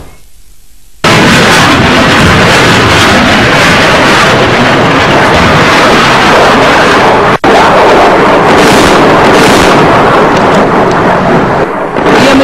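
Pakistan Army artillery and weapons firepower demonstration during a military exercise, with continuous booming blasts and rolling gunfire merging into a loud, sustained roar that starts abruptly after a second of quiet, with one brief gap midway.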